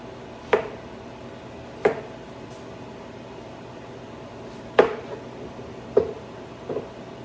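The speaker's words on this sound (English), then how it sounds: "Next, chopping a zucchini." Several sharp knife chops through a zucchini on a cutting board, spaced unevenly about a second or more apart, over a steady low background hum.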